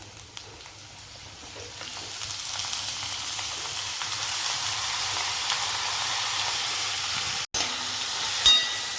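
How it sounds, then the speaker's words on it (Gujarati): Vegetables sauté with garlic and green chillies over a full gas flame, giving a steady close sizzle and hiss that runs throughout, with a brief clatter near the end. "ફૂલ ગેસ ઉપર બધું સતરાવા દેવાનું"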